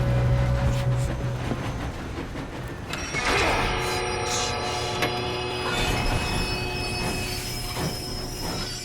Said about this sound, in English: We have to stop this train.